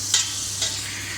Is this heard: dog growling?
no